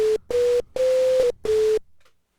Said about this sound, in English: We can only hear the noise generator.